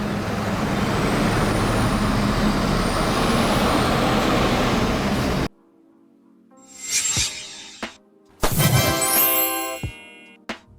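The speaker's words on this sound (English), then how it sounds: "Police water cannon truck. Equipped with powerful water jets, this truck helps disperse crowds during riots." A police water cannon truck gives a loud, steady rushing roar that cuts out, followed by separate bursts of engine noise and sharp hissing air-brake releases.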